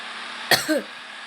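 A single short cough, close to the microphone, followed by a brief throaty sound over quiet background noise.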